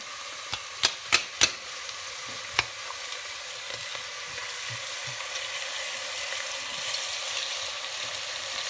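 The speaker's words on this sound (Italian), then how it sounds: "A questo punto metto il pomodoro," Tomato goes into a stew pan of frying meat and potatoes, giving a steady, fairly quiet sizzle, with a few sharp clinks of utensils against the pan early on.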